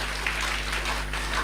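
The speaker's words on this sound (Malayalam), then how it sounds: "കൈയടിച്ച് നന്ദി പറയാം." An audience at a Christian sermon applauds together, a steady wash of many hands clapping that holds evenly throughout without any talk.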